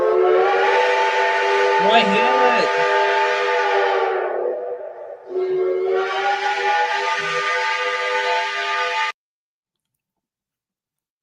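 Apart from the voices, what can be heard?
NYC Mohawk whistle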